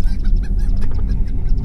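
Chickens cluck in quick, close, repeated bursts over a low, steady droning hum.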